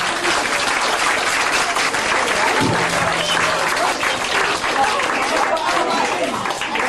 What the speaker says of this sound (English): give them a round of applause because it relaxes them all